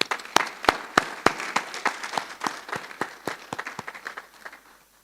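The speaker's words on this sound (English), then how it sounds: "I think the association deserves a round of applause for their efforts." A small audience at a media awards ceremony claps in sparse, distinct hand claps, loud and separate at first, then thinning and fading out over a few seconds.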